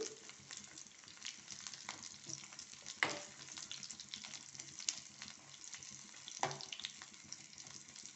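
Crushed garlic dropped into hot tempering oil for a cucumber tambuli yogurt curry: a faint, soft crackling sizzle with a few sharper pops and clinks, quiet and continuous.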